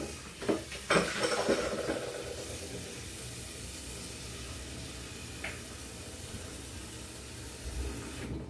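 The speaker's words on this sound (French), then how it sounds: "Là, je fais la vaisselle." Dishes being washed by hand, with a few clinks of plates and cutlery near the start over a steady hiss of running water, then quieter rinsing.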